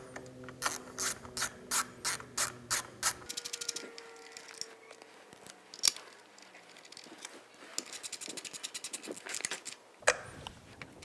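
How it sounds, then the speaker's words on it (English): Zip ties being pulled tight around wiring on a Suzuki RMZ 450 dirt bike, close rapid ratcheting zips in quick bursts with short pauses and a few clicks between pulls. "And then we'll secure it with some zip ties here at the end"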